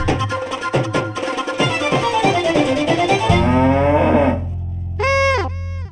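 A buffalo lets out a loud, close, drawn-out low moo, preceded by rhythmic honking calls and followed by a wavering tonal sound at the end.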